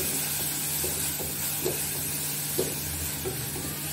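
Onion sautés in a pan with salt and turmeric, a soft steady sizzle with a few light utensil taps and stirs.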